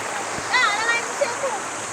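A stream flows with a steady, hissing rush of water, continuous and fairly close, while people's voices rise briefly over it.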